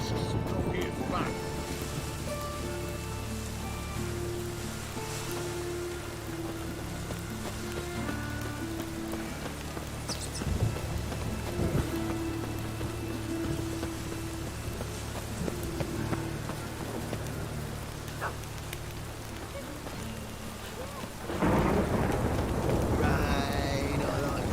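Steady rain pours down in The Witcher 3, a continuous hiss of drops on surfaces with a burst of heavier rain or distant thunder near the end, while voices speak over it.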